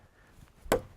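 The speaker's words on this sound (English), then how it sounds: "Would you imagine taking your butcher knife out and chopping a log in two?" A butcher knife strikes a hardwood log with a single sharp, loud chop after a moment of quiet.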